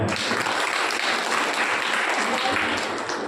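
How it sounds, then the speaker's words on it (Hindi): Loud, dense applause from an audience at a Bhagavat katha gathering celebrating the Krishna and Rukmini wedding, steady and continuous for a few seconds. "आपकी गायत्री परिवार के सदस्य जो आज भागवत मंच पर आए उनके लिए तालियां हो।"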